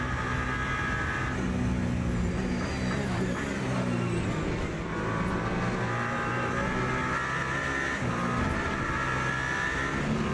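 Race car engines in Le Mans Ultimate, a steady loud roar of the player's engine with shifts in pitch as it revs and changes gear, other cars nearby on track.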